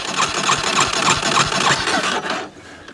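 Small rig engine cranking and catching, a loud rough pulsing chug that runs steadily for a few seconds before fading.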